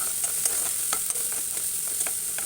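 Onion and finely chopped spinach fry in a pan, a brief stretch of steady sizzling with light, irregular spatula scrapes.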